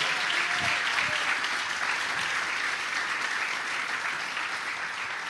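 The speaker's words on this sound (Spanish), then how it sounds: "Le vamos a regalar una ofrenda de palmas al Dios de la gloria" Sustained dense applause from a church congregation offered as praise to God, steady and continuous with no pause, heard from a moderate distance at even loudness.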